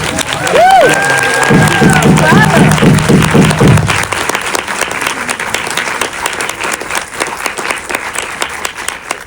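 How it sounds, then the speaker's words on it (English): A theater audience at a film Q&A breaks into loud applause and cheering that fades after about four seconds into lighter scattered clapping, with a voice heard early on. "ladies and gentlemen, Elliott Heffernan, let's have a round of applause"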